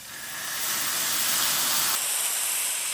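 Chicken stock hisses and steams loudly in a hot pan with lemon juice, a broad continuous hiss that swells and holds steady close up, with no talk.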